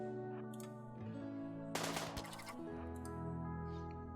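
Rapid gunfire from colonists in the video game Rimworld, a short dense crackling burst of shots in the middle, set against steady looping game music.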